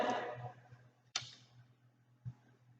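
A lighter clicked to burn the cut end of a pointe shoe ribbon, with a couple of sharp, close clicks separated by short pauses in a quiet room.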